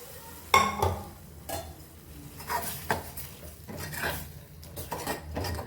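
Boiled chickpeas being stirred into fried masala in a pan with a metal spoon: clattering scrapes and knocks against the pan, one loud clank at the start, over a faint sizzle.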